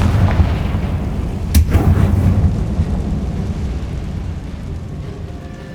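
A Confringo blasting curse explodes in Hogwarts Legacy, a single loud, sharp boom that rings out over a steady, rumbling game backdrop, then fades back into the continuous ambience.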